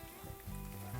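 Masala with Kashmiri chili powder sizzles steadily in a pan for a tomato chickpea curry made without onion, giving a dense close frying hiss with a low rumbling undertone.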